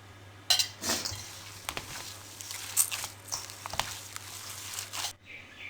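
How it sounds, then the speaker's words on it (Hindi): Chicken nugget mixture being mixed with cooking oil in a bowl, heard as close, irregular scraping, slapping and clinking strokes of a utensil against the bowl. "अब इसको हम अच्छे से मिक्स कर लेंगे।"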